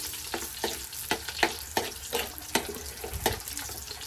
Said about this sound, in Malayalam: പച്ചമുളകിനകത്ത് വെള്ളമൊക്കെ പോകുന്ന കേട്ടോ